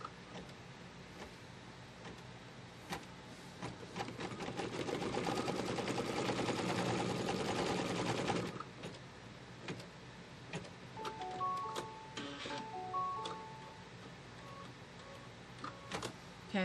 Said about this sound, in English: It's going to stitch a placement line for the bottle cap.